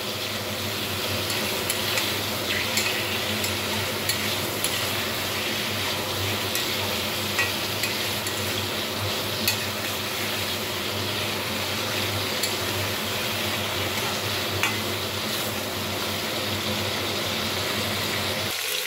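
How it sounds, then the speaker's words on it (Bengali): Eggplant pieces fry with turmeric in a pan, giving a steady, close, continuous sizzle and hiss that holds evenly throughout with no voices. "এবার দিয়ে দেব পরিমাণ মতো হলুদ। খুব ভালোভাবে ভেজে নেব বেগুনটাকে।"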